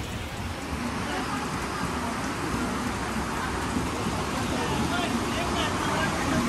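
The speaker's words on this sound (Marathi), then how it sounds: "बेकार पाऊस आहे बघा" Heavy rain pouring down in Ghatkopar, a dense, steady hiss of falling water that continues without break from start to finish at moderate loudness.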